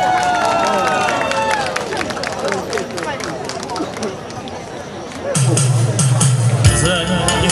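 Crowd at a karaoke singing contest final applauds a contestant taking the stage, a dense wash of clapping and cheering that swells louder toward the end, with music starting up underneath.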